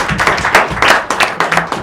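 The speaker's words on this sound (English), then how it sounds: "Can we give ourselves a round of applause?" Audience applause at an informal monthly folklore storytelling circle, with a brief burst of clapping from a modest group, close and fairly loud, ending within a couple of seconds.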